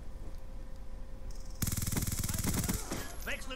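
Enemy gunfire in the shooter game Call of Duty: Black Ops 2 starts as a sudden, loud burst of rapid automatic shots that rattles on for about two seconds, breaking a quieter stretch of ambient game noise.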